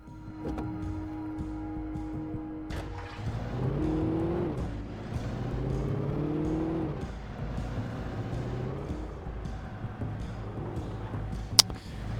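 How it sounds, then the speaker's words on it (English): Jeep driving in the video game Alan Wake 2: a steady engine rumble and whir that swells and holds for several seconds, close and fairly loud, with no talking and a sharp click near the end. "Let me get in this Jeep."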